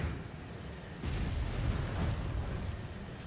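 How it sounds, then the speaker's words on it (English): A Resident Evil 5 explosion, a deep rumbling boom that swells and then lingers as a heavy low roar, with no talk over it. "That was an explosion"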